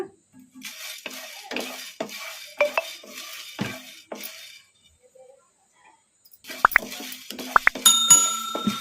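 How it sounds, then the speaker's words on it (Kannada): A spoonful of coriander seeds is stirred in a pan over medium flame for village-style ridge gourd chutney, making intermittent scraping strokes, metallic clinks and a light rustle, with a quiet pause midway. "ಈಗ ಒಂದು ಸ್ಪೂನು ಧನಿಯಾ ಹಾಕೊಂಡಿವಲ್ಲ ಈಗ ಇದನ್ನು ಒಂದು ಸ್ವಲ್ಪ ಫ್ರೈ ಮಾಡ್ಕೊಂಬಿಡೋಣ"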